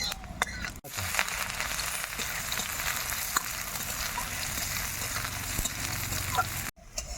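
Onion, dried chilli and whole cumin fry in hot oil with a dense, continuous sizzle and occasional stirring clicks, heard close at moderate loudness, alone without talk, with two brief sharp dropouts.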